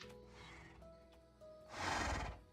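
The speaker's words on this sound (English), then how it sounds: "Here's the different horses." A Minecraft horse gives a single breathy neigh near the end, fairly quiet overall, after a stretch of faint, sustained game tones.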